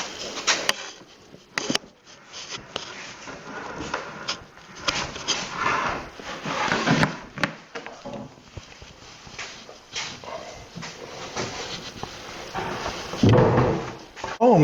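Newly built oak wardrobe doors swing open and shut several times, giving irregular knocks and thumps, while someone talks quietly throughout over a faint room hiss.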